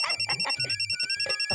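A phone ringtone chirps in a quick, repeating electronic pattern with a steady high tone, close and clear, with no talking.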